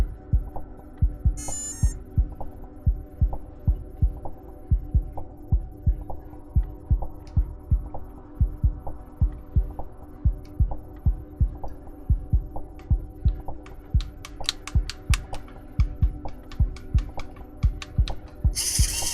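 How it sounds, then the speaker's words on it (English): A steady, rapid electronic pulsing repeats over and over with a low hum underneath, as a robot's servo electronics sound continuous short beeps. "It's just beeping over and over."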